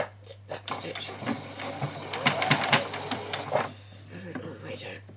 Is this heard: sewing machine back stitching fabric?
yes